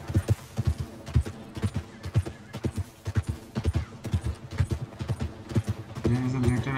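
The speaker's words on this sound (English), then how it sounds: "My horse needs rest." Horse hooves clip-clop in a steady rhythm on the ground in Red Dead Redemption 2, close and clear, with a louder low rumble near the end.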